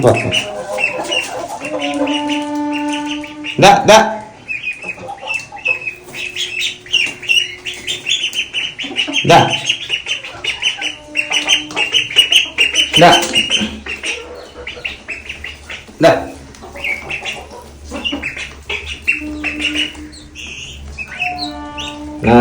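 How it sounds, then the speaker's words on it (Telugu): Domestic turkeys feeding inside a room give scattered clucks, chirps and the occasional wing flap, close and intermittent, with other farm birds and some nearby human chatter. "ఈ టర్కీ కోళ్ళు ఒక్కటే అలాగే తింటున్నాయి"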